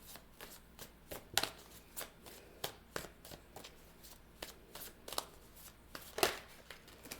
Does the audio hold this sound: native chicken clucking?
no